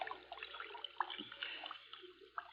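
A radio-drama effect of a body's face being pushed into a stream: soft splashing and gurgling water, faint and uneven, with a few brief louder sloshes.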